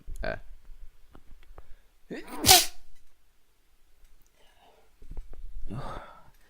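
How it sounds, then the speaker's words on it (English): A single loud, sharp sneeze bursts out near the middle, with quieter breathy sounds and soft rustling before and after it. "That was the loudest sneeze I've ever done."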